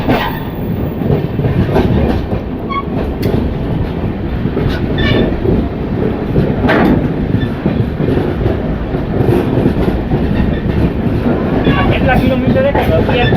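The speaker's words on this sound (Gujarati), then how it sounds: "આજે ડબલ ટ્રેક પર માલગાડી ટ્રેન પણ જોવા મળી ગઈ છે" A freight train runs on the new double track of the Lakhabaval–Kanalus section between Rajkot and Jamnagar, producing a loud, continuous rumble with scattered wheel clacks and metallic rattles close by.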